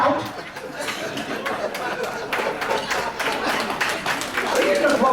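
A roast audience claps and chatters in a banquet hall, with a scattered, steady patter of applause mixed with crowd murmur.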